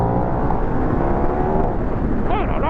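A KTM Duke motorcycle engine pulls hard under acceleration while riding, a loud continuous drone with heavy wind buffeting across the microphone throughout.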